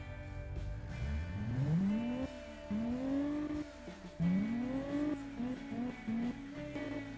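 Custom engine built in the Automation car game, revving up repeatedly in several rising sweeps with brief drops between, loud and close with no talking.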